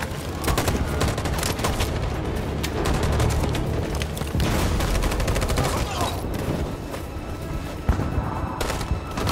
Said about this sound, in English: Did that grenade just explode?